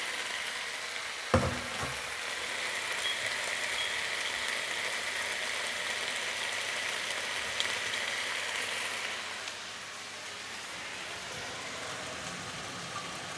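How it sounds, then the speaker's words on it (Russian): Chicken pieces frying in vegetable oil in a pan, a steady dense sizzle with a clatter near the start, continuous and close with no talking. "Далее эту курицу я буду обжаривать на сковороде с растительным маслом до готовности."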